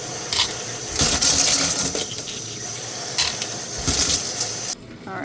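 Cleaned rocks, soaked 24 hours in borax and Ivory soap, rattle and clink against a bowl as they are rinsed with running water, in several loud, clattering bursts.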